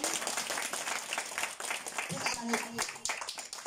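A church congregation claps and applauds during a worship service, a scattered, moderate round of clapping heard from within the room, with a voice speaking over it.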